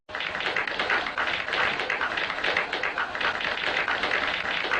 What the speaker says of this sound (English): I must give you a round of applause.